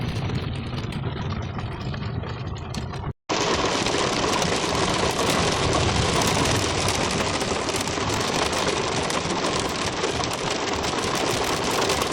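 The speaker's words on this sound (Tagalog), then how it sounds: "Ang lakas ng patak ang ulan." Heavy rain falling during a trip to Hatta, a dense, constant roar of drops hitting surfaces, loud and close, with a brief cut partway through and no talking.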